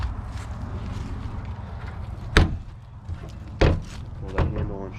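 A 1973 White Freightliner cabover truck's cab door is worked open, giving three sharp metallic clunks and latch knocks spaced a second or so apart over a low idling rumble and faint background shuffling.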